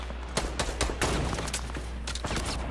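Rapid bursts of gunfire in the video game Fortnite, with shot after shot fired in quick clusters, fairly loud and sharp and continuing with hardly a pause.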